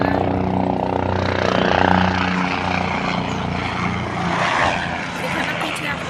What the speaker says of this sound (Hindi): हेलीकॉप्टर निकल रहा है